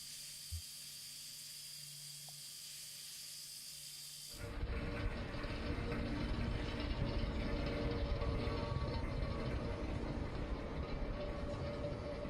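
A tram in the video game Kentucky Route Zero starts rolling along the tracks after a quiet lull, and a steady loud rumbling hiss with rail clatter then continues without letup, with no talk.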